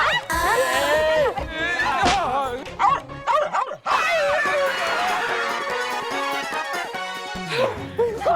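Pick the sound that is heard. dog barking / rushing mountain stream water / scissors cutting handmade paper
dog barking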